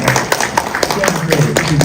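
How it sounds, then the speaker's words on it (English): Audience clapping after a film screening Q&A, a steady patter of many hands close by with voices mixed in. "Give yourself some applause."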